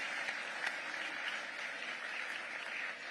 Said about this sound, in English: A big round of applause with our awardee, Gianni Infantino.